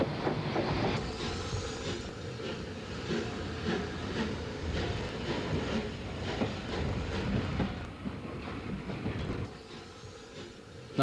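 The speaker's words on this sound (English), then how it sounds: "Number 34012, Launceston, adds the Folkestone portion of the Man of Kent." Rebuilt Bulleid Pacific steam locomotive 34012 Launceston hauling a train in Kent in the 1950s: a continuous loud rumble of running train with faint rhythmic clatter and hiss throughout, no voices.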